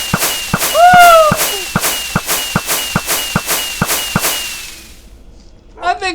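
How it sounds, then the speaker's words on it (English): Fireworks launching and bursting in the Lego Island video game: a steady series of about ten sharp cracks roughly every half second, a rising whistle early on, then quiet with a faint fizzing crackle at the end. "We can shoot off all these fireworks."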